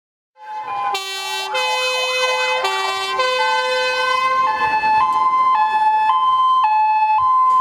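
Fire brigade and ambulance sirens blare loudly nearby, a rapid warbling wail giving way to a steady two-tone hi-lo pattern repeating without pause.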